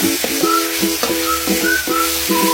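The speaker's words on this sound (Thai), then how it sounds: "เราก็เตรียมน้ำมันให้ ร้อนนะครับ แล้วก็ผัดเครื่องเข้าไปนะครับ" Curry paste being stir-fried in hot oil for a pork belly dish, a steady loud sizzle with repeated scraping strokes of a utensil against the pan, close and continuous with no talking.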